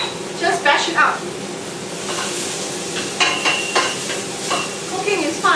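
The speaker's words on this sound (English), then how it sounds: "Now I'll fry, add in the onions, lemongrass" Onions and lemongrass fry in a pan with a steady sizzle, scraped and stirred with clatter and a few sharper knocks, while a person talks over the cooking.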